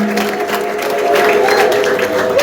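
Church congregation at a Hadiyya-language worship service applauding with joyful ululation, dense sustained clapping under high trilling voices, loud and close.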